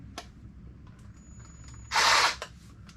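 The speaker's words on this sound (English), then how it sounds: "then we'll drill our second hole" A short, loud burst of a power drill whirring for about half a second, drilling into a basement wall, against a quiet room background.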